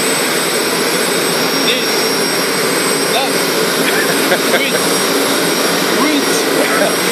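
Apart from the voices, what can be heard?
Gazelle helicopter turbine engine running before takeoff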